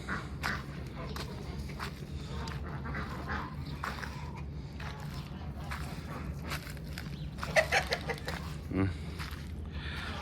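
Chickens moved into a freshly covered farm pen on a cold, muddy day, faint clucks and squawks mixed with footsteps squelching through mud, with a person talking over them.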